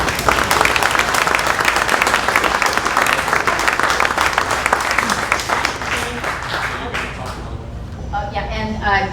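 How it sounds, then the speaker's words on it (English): A room full of people clapping loudly, thinning and fading toward the end as a few voices start talking. "Give yourself a round of applause."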